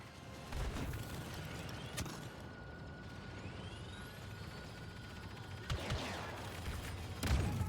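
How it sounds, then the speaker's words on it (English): Gunfire in Star Wars Battlefront II (2017), a dense continuous battle din of shots and booms at moderate level, with sharper bursts standing out and faint player voices under it. "They're shooting."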